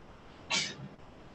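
A single short human sneeze in an operating room during cataract surgery, a sharp burst that fades quickly against quiet background hum, with no talk around it.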